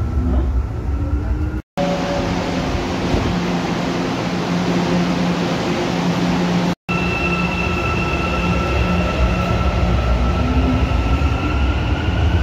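Inside an underground station of the São Paulo metro, a train rumbles steadily and loudly through the whole stretch, with a constant roar, faint high whines and wheel squeal over the dense rolling noise.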